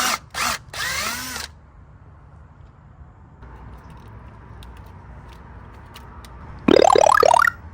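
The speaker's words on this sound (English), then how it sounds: "I'll use some step drill bits to make it a bit bigger for the oversized wire" A power drill with a step drill bit bursts on briefly a few times, then after a quiet stretch grinds loudly through metal for about a second, enlarging a hole in a Tahoe, before stopping.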